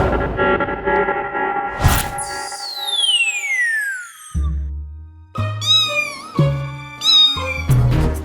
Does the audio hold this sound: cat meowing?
yes